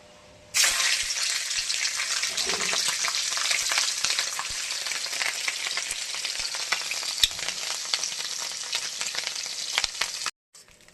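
Turmeric-coated fish fat dropped into hot oil in a wok, bursting into a loud, continuous sizzle with crackling pops that runs steadily until it cuts off abruptly near the end.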